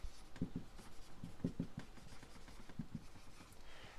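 A number being written by hand on paper: quick, faint scratching strokes in short clustered bursts, close and quiet with no voice.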